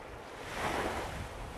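Ocean waves wash up on a New Jersey beach in May, a steady broadband surge that swells and recedes, with wind noise buffeting the microphone.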